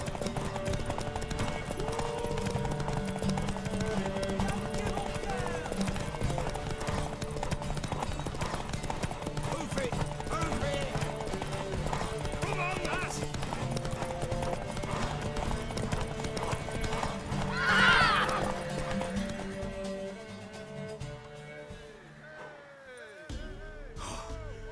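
Horse hooves clip-clop steadily in the video game The Witcher 3: Wild Hunt, a continuous rhythmic trot with snorting breaths over a background score, fading toward the end.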